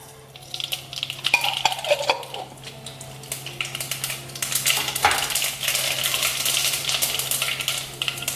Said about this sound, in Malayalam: ഇതിനകത്തേക്ക് നമുക്ക് കടുകിടാം